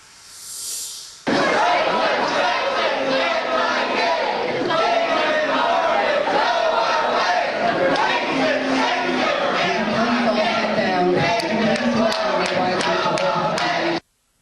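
A protest crowd at Emory University chanting in loud rhythmic unison, packed voices sustained for several seconds with scattered claps and shouts mixed in.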